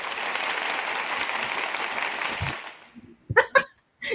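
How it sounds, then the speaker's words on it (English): A crowd applauds loudly and steadily for about two and a half seconds, then fades out, followed by a few sharp knocks and thumps. "Can you hear that? The applause."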